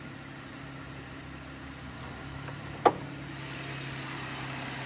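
A 2010 Chevrolet Camaro 2LT coupe with a high-output V6 idles steadily with its hood open, a smooth low hum running throughout with a single sharp click near the end.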